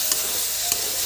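A ladle stirs fish curry with elephant apple in a hot pan. Two brief scraping strokes sound over a steady, close sizzle. No one speaks.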